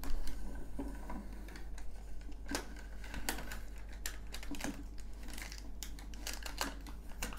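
Protective film is peeled off an ASRock A620M Pro RS motherboard. Faint, continuous crinkly crackling sits close to the microphone, with scattered sharper ticks over a low steady hum.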